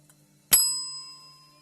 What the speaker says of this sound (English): I've got the bell especially ready for you, Dylan.